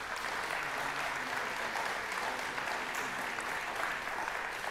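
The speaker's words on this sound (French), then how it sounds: "je crois que vous pouvez l'applaudir" A distant, even wash of audience applause rises at an awards ceremony for a bronze laureate in economic performance, with continuous clapping and no voices.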